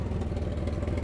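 A Chevrolet Camaro engine keeps running with its fuel pump relay pulled, giving a continuous, rough, low rumbling idle with a slightly clattery texture.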